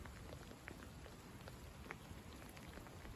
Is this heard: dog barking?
no